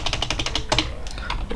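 Quick bursts of keystrokes on a computer keyboard as an IP address is entered on a Windows Server 2025 machine, a fast irregular clatter of close, crisp clicks with a short pause partway through.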